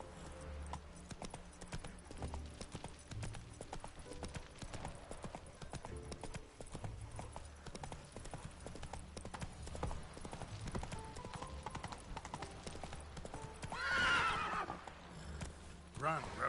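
Roach the horse in The Witcher 3 galloping with a steady clip-clop of hooves throughout, then a loud neigh near the end, game sound effects with no speech.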